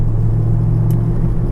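Inside the cabin of a Honda Civic Type R with an aftermarket air intake box, a low, steady exhaust drone booms continuously at cruising revs, with no talk over it.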